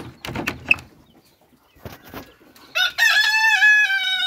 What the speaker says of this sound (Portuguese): Tem a galinha chocando ali.